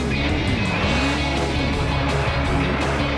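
Arcade-style truck racing from the Wii game Excite Truck: a steady, loud engine roar with rising and falling revs and faint tire squeal, continuous throughout with no talk.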